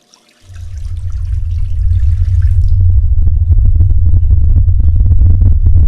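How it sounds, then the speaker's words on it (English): Hazardous chemicals pour directly into a lab sink in a loud, steady splashing and gurgling stream. It starts suddenly, builds, and continues close up with no talk. "pours hazardous substances directly into the sink"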